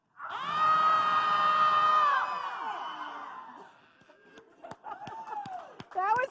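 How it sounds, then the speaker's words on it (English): A group of people screaming together as loud as they can, a sustained shrill shout of about two seconds that trails off, followed by scattered laughter, whoops and chatter. "we're going to scream as loud as you possibly can to get all that energy out"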